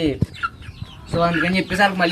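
Peru cross chickens cluck and call close by in short bursts, mixed with a person talking.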